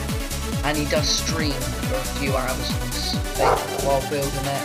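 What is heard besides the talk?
dog barking in the background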